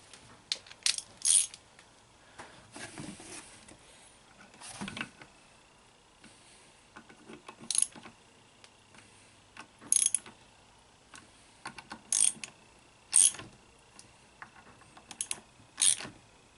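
A ratchet tightens bolts during a throttle body injection rebuild, giving short bursts of quick metallic clicking separated by quiet gaps, close and fairly crisp.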